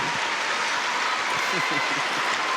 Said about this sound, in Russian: Ну и, конечно, аплодисменты зрителей